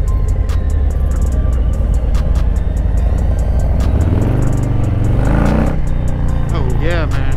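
A 2021 Harley-Davidson Low Rider S motorcycle rumbles close and loud on the move, with a deep steady engine note that climbs near the end over constant wind rush and a brief spoken voice.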